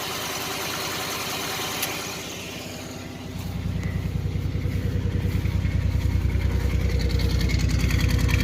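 A 1989 Chevy Celebrity engine idles roughly, then rises to a louder, steady rumble with an uneven, stumbling beat of misfires; no voices.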